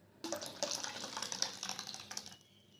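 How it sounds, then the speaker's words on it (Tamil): Water is poured steadily into a pot of tomato rasam for about two seconds, a soft splashing rush that starts abruptly and fades out at the end. The sound is quiet. "இதில் தேவையான அளவுக்கு தண்ணியை ஊற்றிக்கோங்க."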